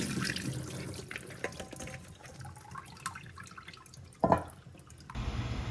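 Water is drained off cooked broccoli in a kitchen, a close, running splash and trickle with a short louder gush near the end.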